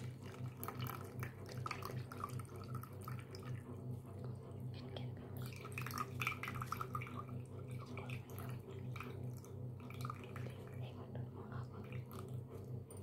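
Filtered water trickling and dripping into the well of a school-project rainwater harvesting model, a faint continuous patter up close, with voices murmuring underneath.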